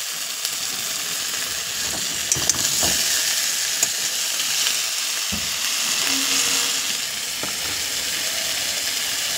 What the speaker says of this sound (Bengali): একটু ভেজে নেব